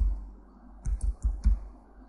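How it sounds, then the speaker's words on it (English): Four quick clicks of keys typed on a computer keyboard tap out close and fairly quiet, evenly spaced within about a second, with no talk over them. "so let me type that in"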